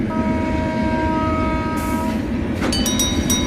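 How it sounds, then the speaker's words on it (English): Diesel train climbing the hill railway to Ooty, a loud steady rumble of engine and wheels with a sustained horn blast, then sharp clanks near the end, close by. "These diesel trains are faster than the pre-war steam locos."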